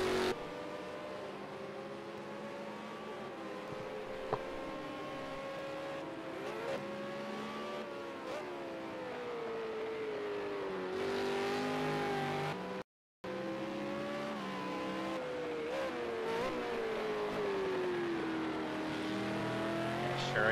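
V8 Supercar race car engine at Circuit of the Americas, loud and continuous with rising and falling revs and gear changes as the car runs the track, a brief cut of silence midway, no talk.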